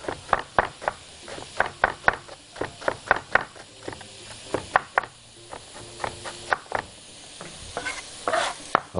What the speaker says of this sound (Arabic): بعد ما شوحنا عندنا السجق اهوت من غير ما حطينا ماده دهنيه